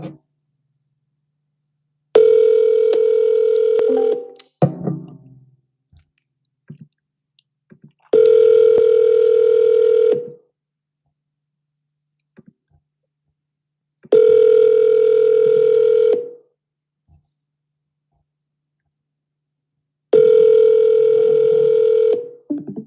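A telephone rings out while calling a for-sale-by-owner lead: four long, steady tones of about two seconds each, separated by roughly four seconds of silence, loud and clean.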